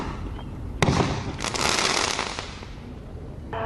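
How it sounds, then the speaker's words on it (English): Fireworks go off nearby, a sharp loud bang followed by a dense burst of crackling explosions that fades out, with another blast starting at the end. "Here's some footage that shows some of the dangers of fireworks."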